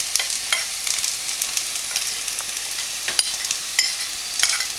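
Okra being stirred in a frying pan with turmeric, coriander and red chili powder: a steady sizzle with irregular scraping stirs throughout, close and moderately loud, no talking.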